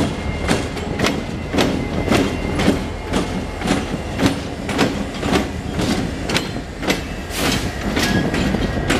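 Two light locomotives roll past on a main line with a steady, regular clickety-clack of wheels over rail joints, rumbling continuously at moderate volume.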